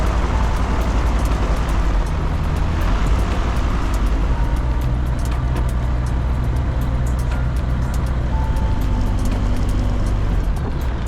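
A light aircraft engine runs steadily at around 2000 RPM during pre-flight checks at Heck Field on the Gold Coast, a constant loud droning hum heard from inside the cockpit without a break.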